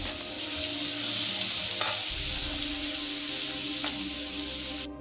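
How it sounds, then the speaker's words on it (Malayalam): Shredded cabbage for a Kerala-style thoran stirred and frying in a hot pan, with a steady close sizzle throughout and two or three soft scrapes of the spoon against the pan, no voices. "ക്യാബേജ് ഇട്ട് കൊടുക്കാമേ ഇട്ട് കൊടുത്ത് നല്ലപോലെ ഇളക്കി യോജിപ്പിച്ച്"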